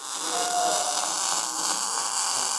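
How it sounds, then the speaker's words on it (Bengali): Welding on a steel fixture for footrest grips on an Iron Horse motorcycle, heard as a steady, hissing, buzzing crackle that holds evenly throughout at a moderate level, with no talk. "এই মুহূর্তে আয়রন হর্সের ফুড রেস্টের গ্রিপ বানানোর ফিক্সচারটায় ওয়েল্ডিং করছে"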